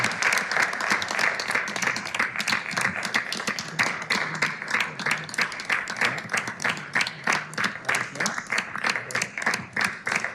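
An indoor audience at a city council meeting applauds a retiring fire chief with sustained, evenly dense clapping that fades into slower, scattered claps near the end, moderately close and without speech.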